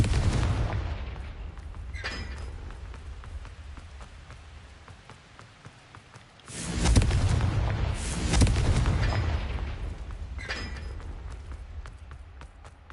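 Confringo blasting-spell explosions in the Hogwarts Legacy video game, with a loud rumbling burst around the middle and lighter crackling hits before and after over steady game ambience.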